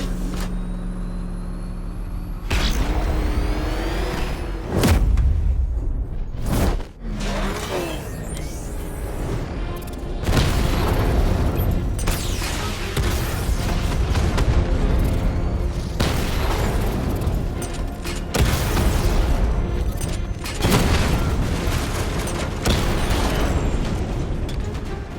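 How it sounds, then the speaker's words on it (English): The Batmobile's 60mm cannon fires at heavily armored tanks in Batman: Arkham Knight, a series of loud booming blasts with sharp cut-offs between them, set amid heavy mechanical rumble and vehicle noise. "Your 60mm cannon will penetrate these heavily armored units, but it'll take a few direct hits to destroy them"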